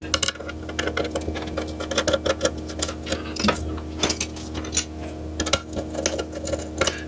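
Screws being driven in while fitting a power draw bar on a PM 728VT mill, giving rapid repetitive clicking and ratcheting taps, close and fairly quiet over a low mechanical hum.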